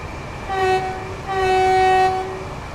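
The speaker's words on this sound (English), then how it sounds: "We're doing the right speed, and we just passed another train." Passing train in Train Sim World 5 on the South Eastern High Speed route, with an Electrostar: two loud, close horn blasts, a short one followed by a longer sustained one.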